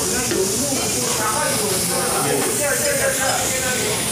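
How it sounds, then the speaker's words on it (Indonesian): Korean-style fried rice cooking in a single large pan at a street food stall: a dense, continuous sizzle and hiss at close range, with voices in the background. "Masak nasi goreng ala Korea"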